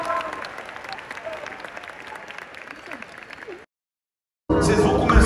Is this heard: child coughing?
no